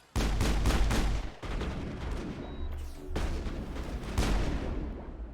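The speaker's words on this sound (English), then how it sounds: "Nice shooting, Tex" Gunfire in the video game Mass Effect: loud rapid bursts of automatic shots crackle and boom close up, pausing briefly and resuming in several volleys over a steady low rumble.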